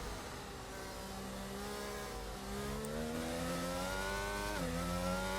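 Race car engine on a lap in a sim racing league game, a steady buzzing drone with rising pitch sweeps and a brief drop as a gear shifts, continuous and moderately loud.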